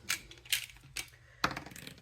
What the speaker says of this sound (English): I roll an 8-sided dice so we know which card we're going to use.